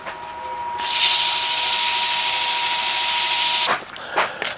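A power sander with 400-grit paper sanding wood whines steadily at high pitch for about three seconds, then cuts off, followed by faint handling noises.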